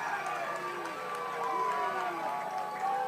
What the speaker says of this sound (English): The home crowd getting onto him a little bit.